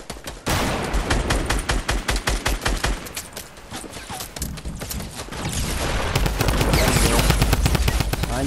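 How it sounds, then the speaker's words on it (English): Loud gunfire fills a Fortnite match, with dense rapid bursts of shots stacking over one another and continuous battle noise throughout. "They're shooting at me."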